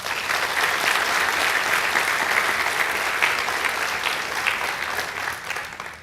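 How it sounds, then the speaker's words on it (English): A high school graduation audience gives families a long, sustained round of applause, a thick, even roar of many hands clapping that holds steady for several seconds before easing slightly at the end. "Seniors, let's give your families a round of applause"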